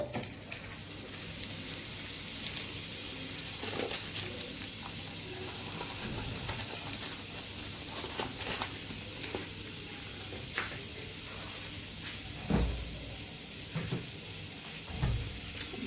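Butter sizzles and crackles steadily in a hot pan while poha is being prepared, with a few louder stirring clatters and spits near the end.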